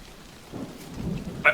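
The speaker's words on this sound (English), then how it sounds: "the rain starts to get even more intense, and there's another loud crack of lightning." A thunderstorm with steady rain, a low rumbling crack of thunder rolling through the middle and a sharper burst near the end, heard from indoors at moderate level.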